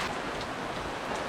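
Rain falls steadily on an RV awning during a storm, a dense, even hiss of drops close by with no let-up and no voices.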